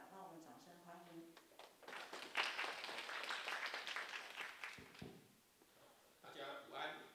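An audience at a lecture hall history talk applauds to welcome the deputy director, a broad burst of clapping swelling after a voice and fading as speech resumes near the end.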